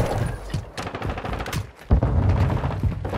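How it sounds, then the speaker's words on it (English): Rapid automatic gunfire from the video game Call of Duty: Modern Warfare 2, dense overlapping bursts of close shots with a brief lull before a heavy burst resumes, loud and continuous. "You think that's gonna stop me from shooting?"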